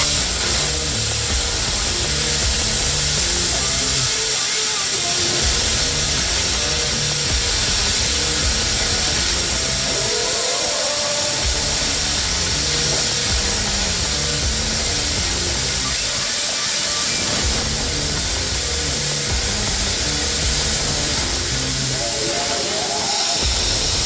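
A Bestarc BTC500DP pilot-arc plasma cutter cuts metal at 50 amps with a continuous loud, harsh hiss that lasts the whole time, broken by a few brief dips.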